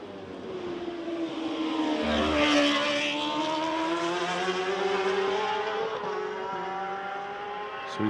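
Racing motorcycle in Macau Grand Prix qualifying, heading into the final bend of the street circuit: a loud, sustained high-revving engine whine that shifts in pitch as the bike passes, heard alone.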